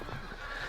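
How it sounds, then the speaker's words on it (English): Geese honking outdoors, a short burst of noisy calls heard at moderate distance with steady background noise and no talking. "There's some really noisy geese over there."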